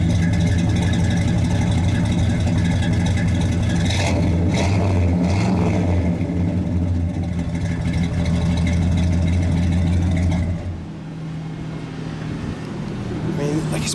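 A 1966 Pontiac Le Mans with a 400 engine rumbles steadily through dual exhaust at close range, a deep continuous drone that drops off sharply near the end, with people talking over it.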